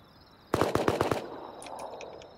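A quick burst of five or six close, loud MP5 gunshots rings out in a video game, followed by a few fainter, more distant shots.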